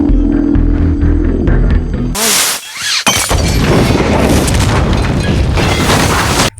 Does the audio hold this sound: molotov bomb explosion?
yes